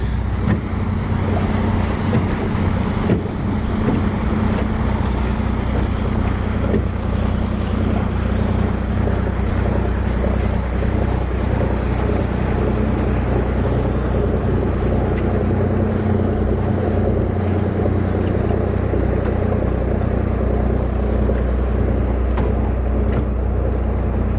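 A boat engine drones steadily with low rumble and wind buffeting the microphone, constant and fairly loud throughout, on a fishing boat.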